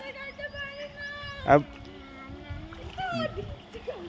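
A woman swims in a resort swimming pool, throwing up one loud splash near the middle. Voices and soft water sounds surround it, and a voice can be heard.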